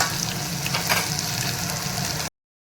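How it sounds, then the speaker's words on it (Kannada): Onions frying in a pan give a steady, close hiss of sizzling oil that runs unbroken for about two seconds, then cuts off abruptly. "ಈರುಳ್ಳಿ ಸ್ವಲ್ಪ ಬೆಳೆಯೋ ತನಕ ಇನ್ನು ಫ್ರೈ ಮಾಡ್ಕೊರಿ"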